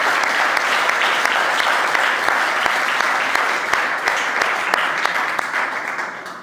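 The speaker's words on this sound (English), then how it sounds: "Let's give our audience panel a round of applause" An audience at the close of a panel discussion on climate and international law claps together in sustained, dense applause that tapers off slightly at the end.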